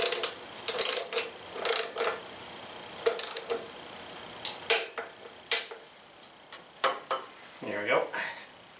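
A torque wrench tightens front wheel bolts on a 2016 Indian Scout Sixty motorcycle, giving a series of sharp metallic ratchet clicks in irregular bursts, fairly faint and close, with a quiet workshop background.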